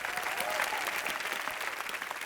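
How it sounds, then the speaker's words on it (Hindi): A studio audience at a TV entertainment show claps steadily and loudly for a guest actor. The applause is a dense, even wash of clapping with a faint crowd murmur, and there are no other sounds. "जोरदार तालियां बजाओ भैया"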